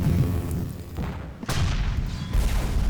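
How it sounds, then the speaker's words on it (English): Gauss cannon fire in the Zero-K strategy game: a few heavy booming shots, one sharp strong blast in the middle, over a continuous low rumble of battle, loud and close. "There's definitely something there that's firing at us. That's some sort of Gauss cannon."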